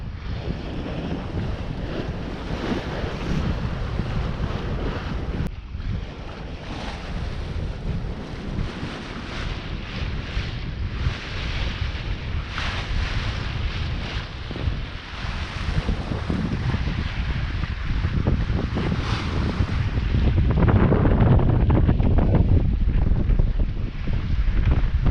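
A sailboat under sail near Spetses, Greece, with steady wind buffeting and water rushing along the hull, loud and continuous, swelling louder toward the end; no voices.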